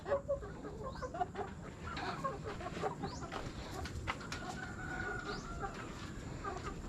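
Soft clucking from a group of free-range chickens carries over a steady low background rumble, the calls scattered and fairly faint.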